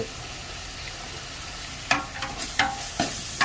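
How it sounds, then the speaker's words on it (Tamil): Green chilies fry in a pan with onion, ginger and garlic: a low, steady sizzle, then several sharp scraping clatters of stirring in the second half. "பச்சை மிளகா போடுங்க"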